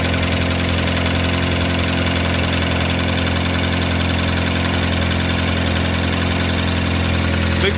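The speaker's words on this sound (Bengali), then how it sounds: "দেখতেই পাচ্ছেন ইঞ্জিনের সাউন্ড" A Toyota Camry hybrid engine with a fault runs steadily at idle, a close, constant mechanical hum with a faint knocking vibration throughout and no talk.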